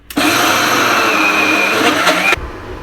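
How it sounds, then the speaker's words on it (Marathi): A kitchen mixer grinder coarsely grinds lentils in a steady, loud whirring burst of about two seconds that cuts off sharply, with background noise continuing after it stops. "आता मिक्सरमधून आबडधोबड काढून घ्यायची आपल्याला."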